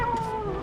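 A pet parrot says "wow" in a cat-like, meow-ish voice, one drawn-out, wavering nasal call that is close and fairly loud, with no other voices.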